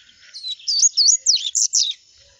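A small papa-capim (capped seedeater) sings a quick, bright phrase of high chirps and warbles, about six rapid notes in a row, close and clear with no talking.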